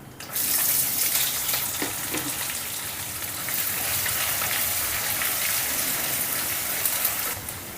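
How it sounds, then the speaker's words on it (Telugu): A sudden burst of loud sizzling as finely chopped onions hit hot tempering oil with curry leaves, then a steady close hiss that keeps going until it cuts off near the end. "ఈ పోపులో సన్నగా తరిగిన ఈ ఉల్లిపాయ ముక్కల్ని కూడా వేసుకుందాం"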